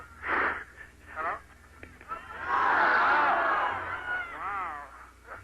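A crowd at a religious freedom crusade in Portland cheers and shouts in loud bursts, with a long swell of voices in the middle and a public-address voice speaking between the outbursts.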